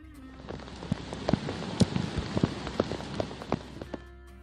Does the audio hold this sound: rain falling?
yes